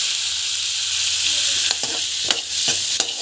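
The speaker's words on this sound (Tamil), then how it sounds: "நல்லா வந்து வதங்கட்டும்." Onions for a dhaba-style mushroom masala sauté in a pan, with a steady, close sizzle broken by a few sharp scrapes and taps of stirring.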